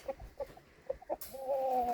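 Soft clucks from a few chickens come in short, scattered calls, followed by a longer drawn-out squawk over a steady outdoor hiss.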